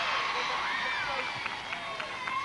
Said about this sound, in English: Nice round of applause for Kirsty Miller.